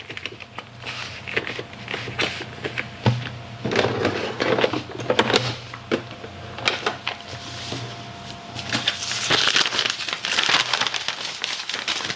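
A large plastic bulk purchase bag being handled and cut, with crinkling and crackling plastic, scissor snips and rustles coming in uneven bursts, close and moderately loud.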